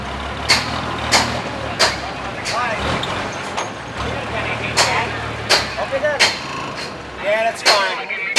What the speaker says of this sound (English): This is a truck.